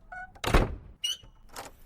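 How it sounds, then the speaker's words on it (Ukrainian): A door is pulled shut tightly: one heavy, close thunk with a few lighter knocks and rattles around it, and no voices. "наказав зачинити двері якнайщільніше"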